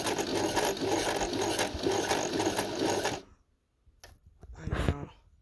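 A sewing machine stitches a zip while its foot glides along the zipper teeth, giving three seconds of fast, close, steady rattling stitching, then a pause and a few short clicks and handling sounds.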